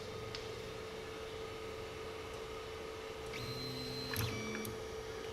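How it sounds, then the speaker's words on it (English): A DIY 3D printer homing its axes gives off faint stepper-motor whines and tones that rise and stop in short runs over a steady background hum, ending in a small click as it reaches its limit. "let's see how well the printer homes"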